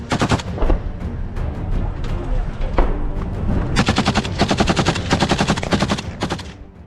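Dense automatic and rapid small-arms gunfire from a group of soldiers shooting in woodland in the war-torn Kursk region, with overlapping bursts that grow more continuous and rattling toward the end, loud and close.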